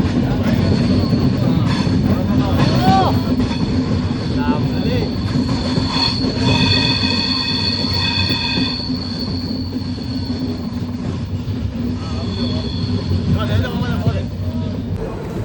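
Passenger train running on rails on a long-distance journey, with steady loud rumble, intermittent wheel squeal and clatter throughout, while people talk in the background.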